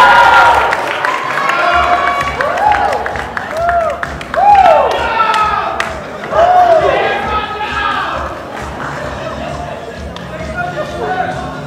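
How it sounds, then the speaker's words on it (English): A crowd at a male beauty pageant claps and cheers for a contestant, with repeated whoops and shrieks rising over continuous clapping and lively crowd noise throughout, fairly loud and close. "Clap it up!"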